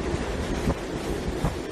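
Strong typhoon wind roars across the microphone in Osaka's Minato ward. The gusts form a dense, continuous rumble with heavy buffeting throughout.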